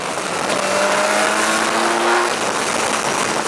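A BMW S1000XR motorcycle engine drones while riding at about 62 mph, loud and close with wind rush. A rising tone swells, then eases off partway through.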